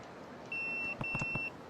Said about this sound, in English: My pager's beeping.